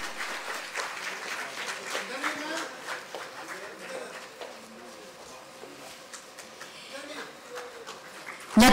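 Steady, fairly soft clapping from an audience at an appointment letter ceremony in Ranchi as a new appointee is called to the stage, continuing evenly for several seconds.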